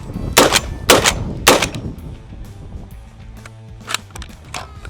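USAS-12 automatic shotgun firing three loud, sharp blasts about half a second apart, then a lingering echo, mechanical rattle and one more distant shot.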